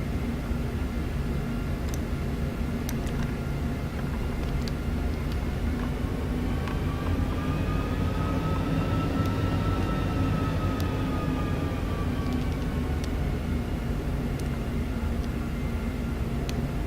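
Airbus A350 airliner taking off, heard from inside the cabin as a steady loud engine roar with a rising and falling whine, continuous throughout.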